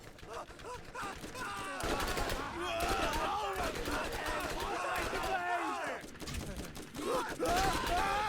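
Rapid bursts of gunfire from a Borderlands game fight, dense and continuous across the clip, mixed with shouted game voices and effects.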